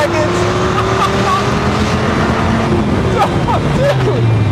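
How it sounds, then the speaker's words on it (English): A 1990s car engine accelerating hard with wheel spin, loud and close, its tone sweeping steadily upward in pitch through the gears while a voice speaks over it. "I know not everybody loves the noise that this car makes"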